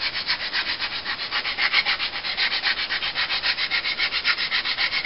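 Sandpaper rubs back and forth on a wooden knitting needle held in the fingers, a close, even rasping swish repeating in quick steady strokes with no talk.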